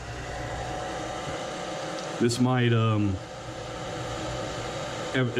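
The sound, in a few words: blow dryer heating sticker adhesive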